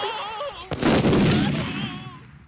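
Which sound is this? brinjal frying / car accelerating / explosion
explosion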